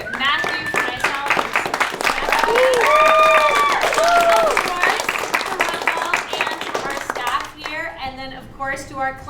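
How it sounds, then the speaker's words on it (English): A comedy show audience claps and cheers in a broad, lively wave, with voices calling out over the applause before it thins near the end, where speech carries on. "just another just wonderful round of applause again for Nathan, for Mathew, for myself,"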